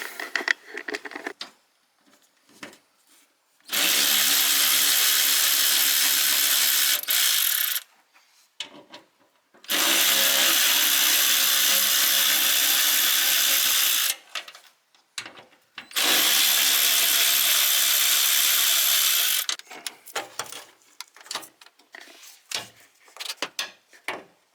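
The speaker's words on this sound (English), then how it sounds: "Now, we're going to grab our 8mm and start undoing the fuel pump bolts." Power tool with an 8mm socket running in three sustained bursts of about four seconds each, undoing fuel pump bolts on a 1999-2002 Mustang, with ratcheting and clinks between bursts.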